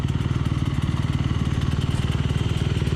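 A 250X dirt bike engine runs close by at a steady, rapid, rhythmic putter, a loud, even pulse with no voices over it.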